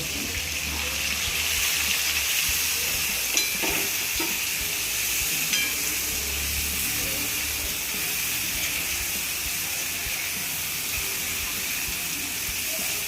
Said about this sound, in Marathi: कारल्याचं तेलामध्ये चांगले परतून घ्यायचे